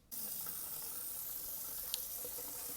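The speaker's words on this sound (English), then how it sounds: "you just take your wrapper and run it under some warm water" Warm tap water runs steadily from a faucet over a rice paper wrapper, a constant close hiss of flowing water with a faint tap near the end.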